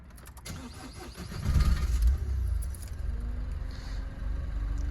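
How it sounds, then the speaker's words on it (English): A Citroen with a clogged diesel particulate filter being started: a short crank and engine catch that settles into a steady, loud idle rumble close by, with no talking. "So now if I turn the car on,"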